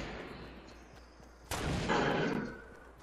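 Video game gunfire: a sudden loud burst of shots cuts in over quiet background noise, rolls on as a dense, rumbling volley for about a second, then fades.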